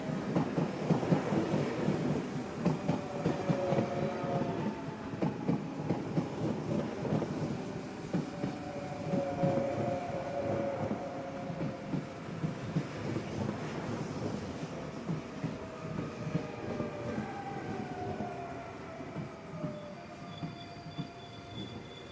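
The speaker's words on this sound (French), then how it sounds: "Le train passa devant le quai et ne s'y arrêta pas." A train rolls past a platform without stopping, a deep continuous rumble of wheels and cars with faint metallic squeals rising toward the end, steady and fairly loud throughout, no voices.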